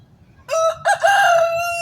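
A rooster in a South Texas backyard crows once, close and loud, a sharp rising call that breaks briefly and then holds, over quiet low background noise.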